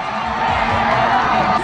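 A crowd at a rodeo festival in Bukidnon with cowgirls performing cheers and shouts in a loud, continuous roar of voices and whoops, steady from start to finish.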